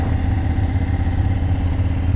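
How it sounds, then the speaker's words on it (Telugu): A BMW F850 GS parallel-twin motorcycle fitted with an Akrapovic exhaust idles steadily, giving a loud, close, low rumbling drone with an even pulse and no voices over it. "మీకు ఇది అక్రాపోవిక్ ఎగ్జాస్ట్ సౌండ్ వినిపిస్తా అని చెప్పినా కదా, మన BMW GS F850 ఇది."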